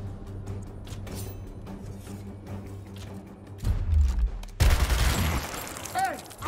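In Gears Tactics, heavy gunfire bursts in during the latter part of a firefight, with loud, dense, rapid shots following a quieter stretch of battle ambience and voices in the game.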